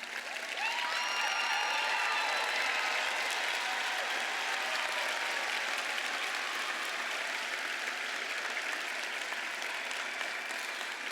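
A commencement crowd gives a sustained, even round of applause for the candidates' parents, steady clapping that fills the hall, heard from a distance and fairly soft.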